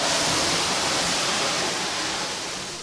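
Water striking burning oil in a pan makes it flare up into a fireball: a loud, steady, roaring whoosh that fills the whole clip and tapers slightly at the end. No voices are heard.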